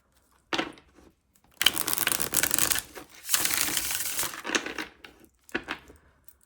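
A tarot deck is shuffled close up in several short, crisp bursts of riffling and sliding cards, separated by brief pauses, with no talking.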